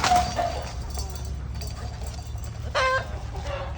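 Free-range country chickens cluck nearby in short, scattered calls over a low steady background hum.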